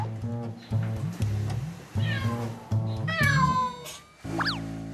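A house cat in a stone-walled home on Jeju Island meows repeatedly, wanting to go outside, with a series of close, loud, drawn-out cries rising in pitch toward the end.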